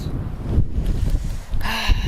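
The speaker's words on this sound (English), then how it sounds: "it's so windy and cold" Cold, strong outdoor wind gusts buffet the microphone in low rumbling bursts, with a brief higher rustle near the end and no voices.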